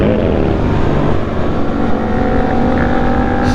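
An E-Bobber electric motorcycle on a cold morning ride, a steady loud drone of motor and wind rushing past, continuous and close with no talk.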